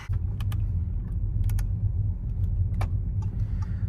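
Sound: car with 1.0 litre engine started and running

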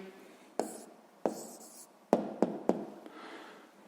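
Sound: writing down the answer by hand

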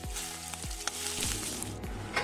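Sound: chopped onions frying in oil

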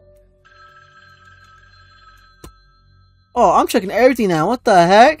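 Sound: telephone ringing in Halloween fan-made Michael Myers video game

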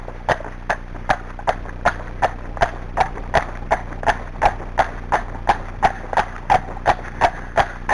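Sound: Friesian horse trotting fast

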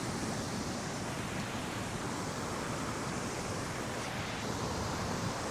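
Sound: Pha Phueng waterfall flowing

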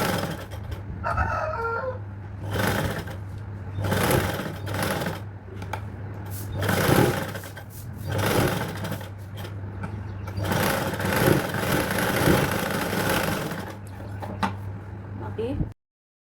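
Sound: sewing machine stitching dress lining

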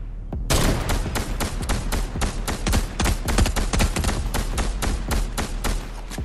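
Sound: gunshots in Fortnite video game

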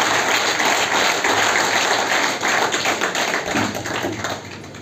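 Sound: audience applause

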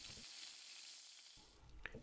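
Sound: coarse fresh bratwurst sizzling while frying in a kazan

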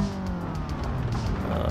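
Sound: car engine restarting after a stall, BeamNG.drive video game

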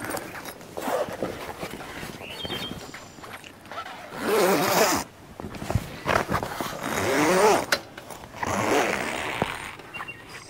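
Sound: zipper on homemade camping awning

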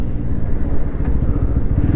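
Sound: Bajaj Pulsar motorcycle riding at high speed

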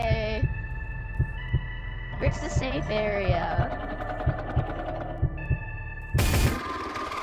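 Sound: heartbeat sound effect in a video game

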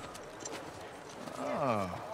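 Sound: horse hooves clip-clopping in video game The Last of Us Part II

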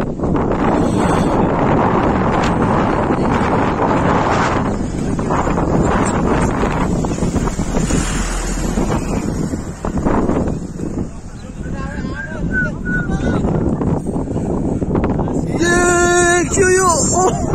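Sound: strong wind blowing at a hydropower project site

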